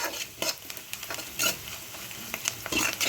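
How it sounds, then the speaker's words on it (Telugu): Spices fry in a hot pan on high heat for a curry, a steady sizzle broken by scattered stirring scrapes and small pops, close and clear with no talking. "ఈ పచ్చివాసన పోయే వరకు ఒక్కసారి వేయించుకోవాలండి."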